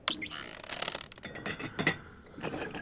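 Dishware clinking in the horror video game Peek: light glassy clinks and rattles in a few quick clusters, close and fairly quiet, with no voices over them.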